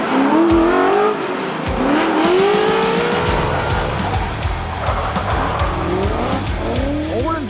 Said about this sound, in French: On roule une voiture de drift professionnelle